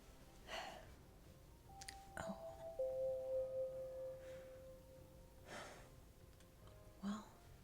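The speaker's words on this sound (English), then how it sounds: "I suppose that's the bell." A school bell chimes faintly at an academy, a soft sustained electronic tone lasting a few seconds amid quiet breathing and whispery sounds.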